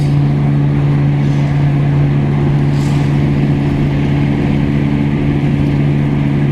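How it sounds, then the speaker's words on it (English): A noisy car drives along a motorway, with a loud, constant engine drone and a steady low hum filling the cabin without letup and no talking. "the noise this car's making, I'm actually shocked I've actually made it to Wisconsin back. Making a right racket."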